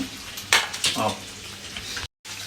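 Capsicum and egg curry stir-fried in oil in a home kitchen, a steady close sizzle with scraping stirs of a utensil against the pan, loud and continuous apart from a brief dropout near the end.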